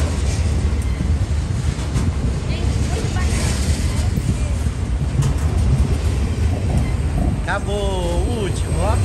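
A train passes beneath a bridge with a continuous, heavy rumble and wind-like roar throughout, and voices come in briefly near the end.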